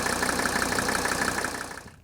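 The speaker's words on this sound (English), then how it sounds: "This is the engine in Green Go." A 1983 Mercedes-Benz 300D turbo diesel sedan idles up close, its steady clattering rumble holding an even rhythm before fading out near the end.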